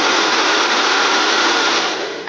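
A blow dryer switched to its high power setting for grooming a toy poodle roars in a continuous, dense rush of air, loud and close, holding steady before dipping briefly at the end.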